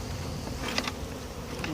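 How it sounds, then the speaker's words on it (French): Honeybees buzz in a swarm box during a swarm transfer, a steady close droning hum with a few brief louder passes, no talking. "Donc il y a des abeilles dedans."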